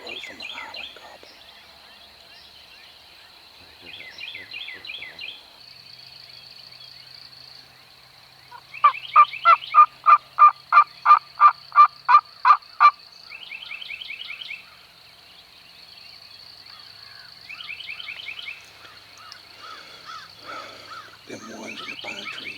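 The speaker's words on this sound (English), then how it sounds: "I just heard the ones across the road from the island gobbling." Wild turkeys gobbling in the distance across a road from an island, repeated rolling gobbles answering one another amid a chorus of small songbirds, with a bright rhythmic bird call sequence in the middle.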